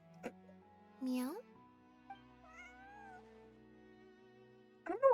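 A person imitating cat meows with the voice, several short drawn-out mews spaced apart with quiet pauses between, close and clear, with a faint tonal background.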